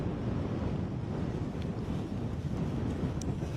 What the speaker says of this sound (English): Again, another blast of this wind.